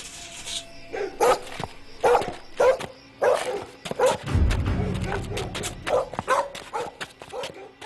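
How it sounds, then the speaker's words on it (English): Several dogs bark nearby in short, sharp bursts, with yips and a brief low rumble partway through. "they hear the sound of dogs barking nearby"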